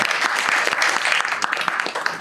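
Audience applause for elementary school students at a county school board meeting, a steady full round of clapping filling the room without pause.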